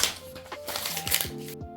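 Scissors snip through ankara fabric for a skirt, a quick run of crisp close cuts with short clicks and rustles, then a brief pause at the end.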